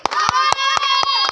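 Six evenly spaced hand claps ring out over a sustained voice during a game at a party, each crisp and close.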